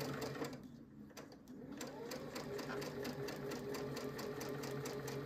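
Domestic sewing machine stitching quilt fabric for diamond-pattern quilt blocks, a steady continuous whir with rapid even needle clatter running throughout at close range, with no talking.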